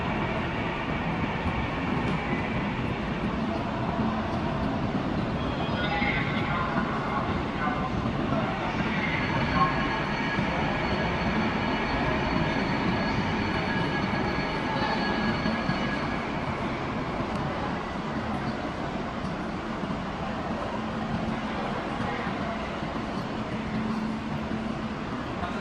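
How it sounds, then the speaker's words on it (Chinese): A coupled Fuxing CR400A2 high-speed train pulls out of Shenzhen North station, producing a continuous loud rumble and rushing roar with faint high-pitched whines that holds steady throughout. "复兴号 CR400A2 重联驶离北站"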